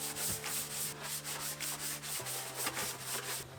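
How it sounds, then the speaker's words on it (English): Rhythmic scrubbing strokes on sun-faded plastic parts being washed with Dawn dish soap, close and steady, a brisk back-and-forth rubbing that continues throughout. "we're gonna have to clean this stuff up with Dawn dish soap"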